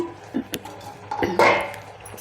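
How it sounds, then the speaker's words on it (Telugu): A metal lid clinks and scrapes as it is lifted from a pot of cooking sweet pumpkin halwa, followed by a brief soft hiss, close and fairly loud. "ఇప్పుడు మూత తీసి చూద్దాం మనము"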